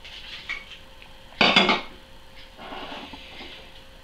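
Dry oat flakes poured into a small saucepan for pear-cinnamon porridge, giving a brief rustling rattle of flakes against metal, with faint clinks of kitchenware before and after.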